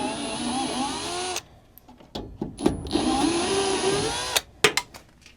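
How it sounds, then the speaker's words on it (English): A cordless drill whines steadily up close as it backs Phillips screws out of a Goodman furnace blower. A second burst of spinning follows, broken by clicks and handling knocks. "if you take your drill bit and you remove this, it's actually a 1/4 inch drive now"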